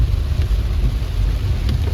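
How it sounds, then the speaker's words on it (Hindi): Steady rain drumming on a vehicle while driving the road to Sonprayag, a continuous dense low rumble and hiss with occasional sharper patters, no one speaking. "अभी तक तो पूरे रास्ते में ही बारिश हो रही है"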